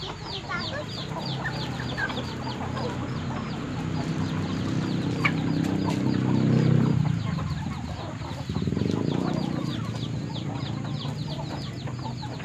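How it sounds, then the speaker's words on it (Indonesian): Many chickens cluck continuously in a busy farmyard, with a dense, steady chorus of clucks and chirps and occasional louder bursts close by. "Banyak sekali ayamnya kita."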